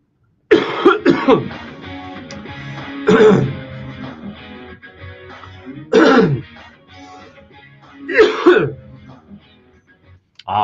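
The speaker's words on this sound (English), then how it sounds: "watching me cough in a pronounced fashion" A man with lingering flu coughs and clears his throat in four loud, close bursts spaced a couple of seconds apart, with quieter breathing and room sound between them.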